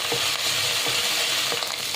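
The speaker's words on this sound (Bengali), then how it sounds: "ভালোভাবে লোটে মাছটাকে তেলের মধ্যে ভেজে নিতে হবে।" Dried Bombay duck (loitta) fish fries in hot oil in a wok for a dish of arum lobe with dry fish: a close, steady sizzle with rhythmic stirring scrapes about every half second, with no voices.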